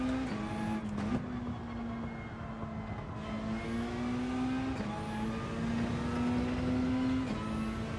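Race car engine in Gran Turismo 7: a continuous droning engine note that rises steadily in pitch through each gear and drops briefly at shifts, repeating several times, loud and close.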